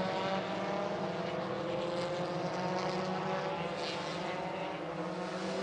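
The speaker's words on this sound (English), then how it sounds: "Cars on the formation lap." WTCC touring cars rolling round the Slovakia Ring on a formation lap, a steady engine drone with a constant tonal hum, continuous and moderately loud without pauses.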